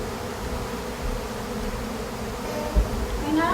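A swarm of honey bees at a front door gives off a dense, continuous buzzing drone, close and steady, with no voices.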